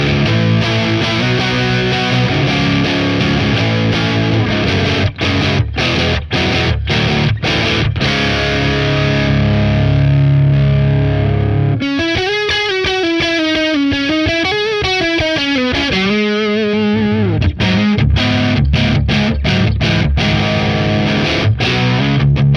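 Loud, heavily distorted electric guitar through a Stone Deaf PDF-1X boost pedal, playing chords and riffs, with a brief stretch of sustained, wavering boosted notes in the middle; no voices.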